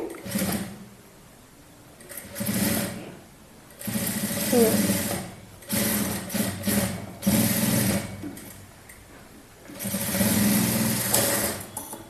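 A sewing machine runs in repeated bursts while tacking a lehenga to keep the cloth from shifting, with fast whirring stretches broken by short pauses.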